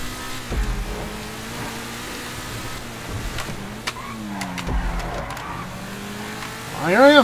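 Race cars in the video game GTA 5 rev and accelerate through a race, engine tones rising and falling with gear changes and a loud revving surge at the end, while someone talks over it.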